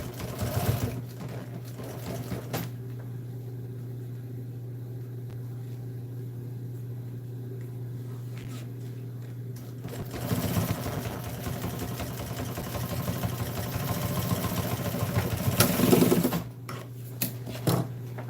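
A sewing machine stitches an upholstered seat cover, running in a steady continuous whir with a constant low hum, pausing briefly early on and picking up again with louder bursts near the end.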